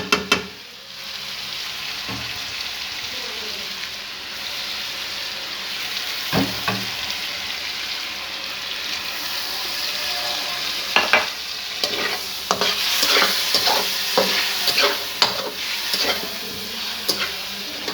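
Garlic ginger paste sizzles and fries steadily in a hot pan for chicken karahi, with occasional scraping and stirring clatter picking up toward the end; no voices.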